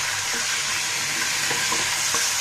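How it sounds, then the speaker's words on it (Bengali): Pieces of meat sizzle loudly in hot oil in a pan in a home kitchen, a continuous crackling fry up close, broken by a few soft stirring knocks, with no speech. "মাংসগুলোকে আমি এই তেলের মধ্যে ভেজে নিব।"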